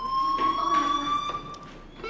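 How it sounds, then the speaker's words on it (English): A fire alarm rings in the video game Life is Strange, a steady high electronic tone with harmonics sounding continuously, with faint muffled voices and movement underneath. "do you hear that fire alarm?"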